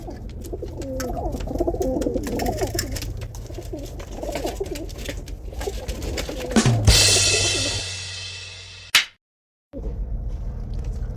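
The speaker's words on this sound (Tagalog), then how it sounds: "Ito mga kalapati natin mga kalapatid kasi ililipat na natin sila sa kabilang barko" Pigeons coo on a ship amid steady engine and wind rumble, with soft bubbling calls throughout, a rush of hissing noise near the end and a brief cut to silence.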